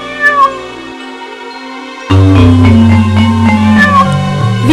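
Cat meows over a backing music bed in a children's moral story, with a couple of clear mewing cries standing out above steady tones.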